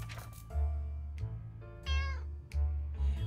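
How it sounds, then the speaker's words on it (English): A cat in the video game 60 Seconds gives several repeated meows, close and clear, each a short rising-falling cry over a low background hum. "Yep, the cat."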